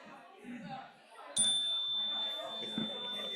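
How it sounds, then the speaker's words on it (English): A small bell gives one bright ring that lingers with a clear sustained tone, heard close and fairly soft amid quiet speech from a person nearby. "Gotta ring the bell again."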